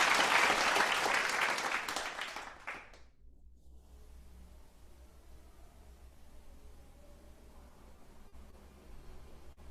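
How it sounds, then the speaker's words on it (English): An audience at a morning devotion applauds in a burst of clapping for about three seconds, then it cuts off abruptly into faint room hiss and quiet background. "Let's give him a round of applause."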